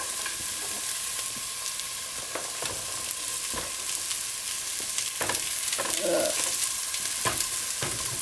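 Chopped onions sautéing in a pot as the base for lentil soup, a steady soft sizzle with occasional stirring scrapes and clinks, alone and fairly close.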